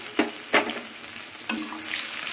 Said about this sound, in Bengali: এবার থেতো করা রসুন দিয়ে দেবো তার সাথে দিয়ে দেবো চার পাঁচটা আরও কাঁচা লঙ্কা চেরা